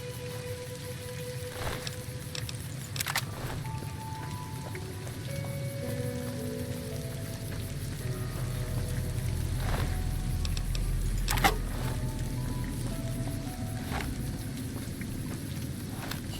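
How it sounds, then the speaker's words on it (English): Steady rain in the Fallout: New Vegas video game, heard as a continuous hiss with occasional sharper game sound effects and tones layered over a low rumble. "well, it's raining"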